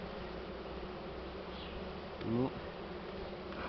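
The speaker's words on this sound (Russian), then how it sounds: "пчелы, они есть пчелы" Dense, steady swarm of bees buzzing close by while honey is extracted from the hive, a continuous hum with a brief louder swell near the end and a short word spoken.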